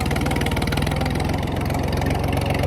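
A motorcycle engine idles steadily and close by, a continuous rhythmic low putter with no pauses.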